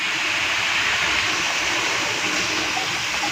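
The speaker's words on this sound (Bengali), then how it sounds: "একটুখানি জল দিয়ে দিচ্ছি।" Water pours into a pan of bottle gourd greens on the stove, a steady, close rushing hiss that stays even for several seconds.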